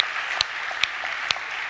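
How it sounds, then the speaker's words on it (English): Four faint, slow, evenly spaced hand claps sound at a hackathon closing ceremony, held over a soft background hiss. "Let's give them a big round of applause."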